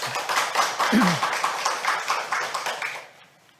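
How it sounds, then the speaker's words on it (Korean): An audience at an academic conference in a Korean history museum claps to welcome the exhibition curator. The brisk, moderately loud applause continues evenly, then fades out near the end. "박수로 맞이하겠습니다"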